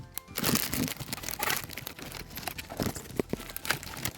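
Plastic packaging of a Kinder Funko Pop surprise toy being opened by hand, with close crinkling and crunching in bursts and no talk.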